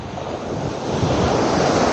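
Ocean surf rushes and swells against the shore at Desaru beach in Johor, mixed with gusty wind buffeting the microphone, growing slightly louder.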